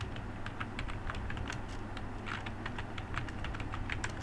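Fingers type on a computer keyboard during data entry in Tally ERP 9 accounting software, a quick, steady run of light plastic key clicks at close range with no voices.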